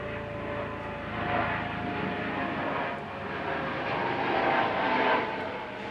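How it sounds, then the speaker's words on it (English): A helicopter passes overhead at a distance, a low, rumbling drone swelling and fading steadily over several seconds. "You can hear a helicopter going over there."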